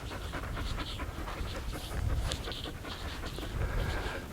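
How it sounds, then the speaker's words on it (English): A small, frightened dog pants close by in quick, rapid breaths, a soft continuous huffing rhythm with no talking. "I've got a scared little dog."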